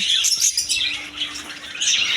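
A bird shop full of caged birds keeps up a bright, overlapping chirping and squawking, with faint flutters of wings, close and constant.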